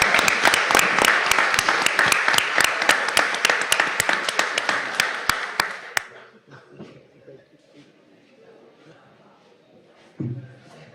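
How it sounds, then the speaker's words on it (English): Audience at a school board meeting applauding students and their sponsors, loud crisp claps for about six seconds that then stop abruptly, leaving faint room murmur and a brief low thump near the end. "Let's all give our students a round of applause and their sponsors"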